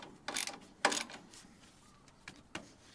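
A ratchet tightens the sway bar end link nut on a 2007 Ford F-150, giving a few short, close clicking bursts separated by brief pauses.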